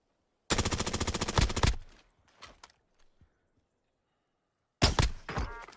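Gunfire from a gunfight in the video game Warzone: a long, loud rapid burst of automatic fire, then scattered quieter thuds and footsteps, then another loud burst at the end.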